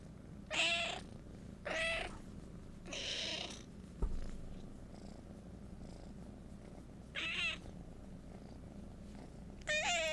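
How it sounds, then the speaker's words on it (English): A cat purrs steadily and softly throughout, a low continuous rumble, with a few brief higher chirps or mews breaking in now and then. "Can't y'all hear the purring?"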